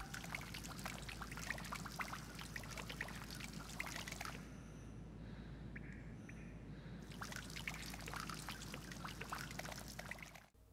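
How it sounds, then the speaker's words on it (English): Rain-like pattering and trickling water fills an indoor facility in GTA 5, a steady dense splashing wash that drops away to a quieter hum for a couple of seconds before resuming at the same level. "the water inside the facility will act as though it is being hit by rain, despite it being in cover"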